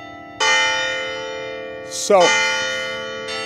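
A church bell tolls loudly twice, with each strike ringing into a long, slowly fading hum, and a faint third touch comes near the end. A voice speaks briefly.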